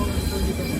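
Steady rumble and rattle of a moving train heard from inside a local sleeper coach, continuous and fairly loud with no clear voices over it.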